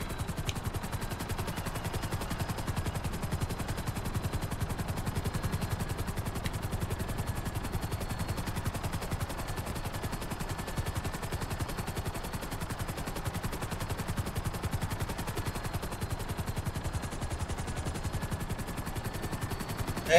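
A gun plane firing in the video game GTA 5, heard as a continuous rapid machine-gun rattle over engine drone, loud and unbroken throughout.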